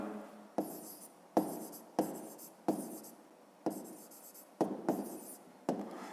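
A math solution handwritten on paper, with close pen strokes scratching in short repeated bursts separated by brief pauses, with no talking.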